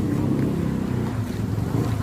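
Strong ocean waves churning before a typhoon, a dense, constant roar of water and wind filling the whole clip with no talk.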